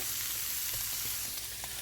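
Pastrami and cabbage burrito filling fries in a pan, a steady close-up sizzle and crackle with faint stirring scrapes and no talking.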